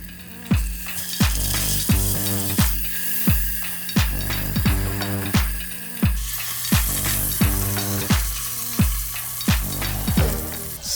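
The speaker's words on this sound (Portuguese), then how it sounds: "Agora a gente vai colocar ele em pé ali, pra selar a borda dali, depois a gente sela essa borda daqui." Pork loin sears in a pan, with a loud, steady sizzle broken by repeated scraping and clattering strokes at a quick, even rhythm; no voices.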